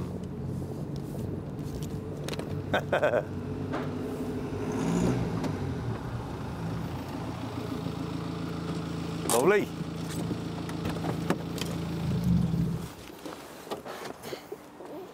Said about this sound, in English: That sounds like a diesel Mini.